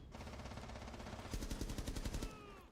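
Rapid automatic gunfire in the Delta Force video game, a dense burst of evenly spaced shots in the second half over a steady background of game noise, with no talk.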